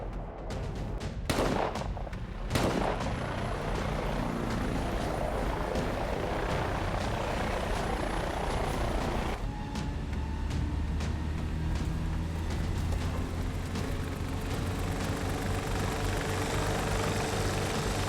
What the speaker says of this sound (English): Get this thing in the air. Yes, sir. Get the chopper.